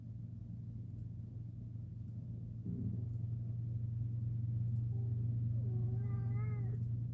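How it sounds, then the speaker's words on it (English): A single cat meows with a short wavering call over a steady low rumble of background noise, fairly close. "What'd you just meow at me for?"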